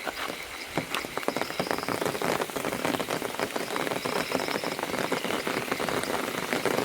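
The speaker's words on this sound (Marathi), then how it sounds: "पाऊस पण आला" Steady rain pours down outdoors during a snake rescue at a shop in a market, a dense, continuous patter of drops on surfaces holding an even level throughout with no voices.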